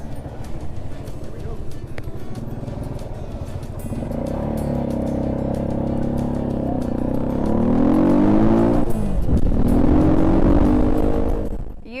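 A Janus motorcycle engine rumbles and revs up through its gears, growing louder as it accelerates, with voices talking over it.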